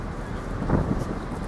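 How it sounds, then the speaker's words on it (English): Wind blows steadily in an outdoor park, a continuous low rumble of buffeting against the microphone that rises slightly midway, with no talk over it. "It is kind of windy"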